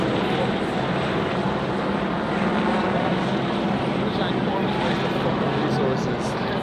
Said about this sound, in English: There are so many fucking helicopters.